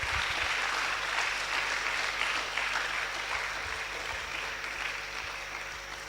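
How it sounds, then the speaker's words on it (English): Audience at a youth leadership summit clapping together, a dense sustained round of applause that holds steady throughout and tapers slightly toward the end, with no talking over it. "So put your hands together for God. Just clap to him."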